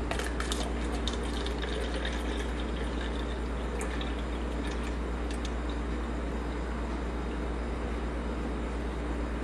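Distilled water is poured into a cup sitting on a kitchen scale, making a steady, continuous liquid rush with a few brief splashy clicks at the start and a low hum beneath.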